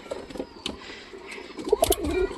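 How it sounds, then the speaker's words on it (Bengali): Pigeons at a home coop where chicks have just hatched, giving soft, low coos in short bursts near the microphone, with light rustling around them and no talk. "তো সব কবুতরগুলা দেখো বাইরে বসে আছে সব কবুতরগুলা"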